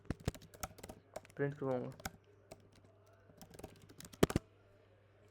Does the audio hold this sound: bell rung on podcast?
no